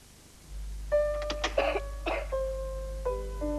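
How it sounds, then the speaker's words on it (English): A child coughs in several short, harsh bursts over a low steady hum, with tonal beeps in between. "When a child coughs and coughs and can't settle down"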